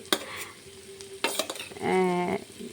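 Potatoes added to spiced masala in a pan, a soft sizzle broken by a few sharp clinks and scrapes of a spoon, with a brief tonal squeak near the end, close and quiet without speech.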